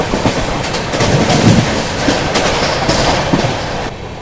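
A short goods train rolls past on the Ratlam–Kota–Delhi main line, a loud, close, continuous rumble with rhythmic clickety-clack of wheels over rail joints.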